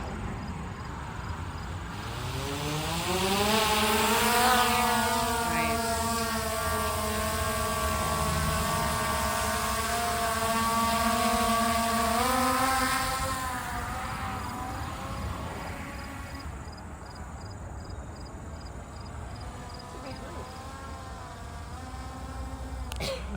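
A small drone flies overhead near a roofing job site, its thin whining buzz rising in pitch and drifting steadily for many seconds before fading into the background, moderately loud and with no talk.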